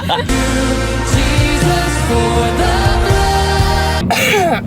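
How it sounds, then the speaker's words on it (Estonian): Coughing and throat clearing, several harsh bursts in a row, mixed with voiced, strained sounds, loud and close. "Sain köhid."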